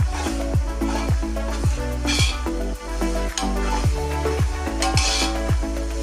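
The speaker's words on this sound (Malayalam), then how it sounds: "നെക്സ്റ്റ് കറിവേപ്പില, അങ്ങനെ എല്ലാം കൂടി നല്ല പോലെ മിക്സ് ചെയ്യുക. നല്ല പോലെ ഫ്രൈ ആയി വരണം." Lakshadweep-style fish pickle masala with curry leaves and green chillies fries in a pan under a constant loud sizzle, while a spoon scrapes through it in steady, regular strokes about twice a second.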